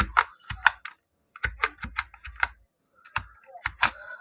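Someone types an Excel formula on a computer keyboard in quick bursts of close, crisp key clicks, broken by short pauses, with no talking.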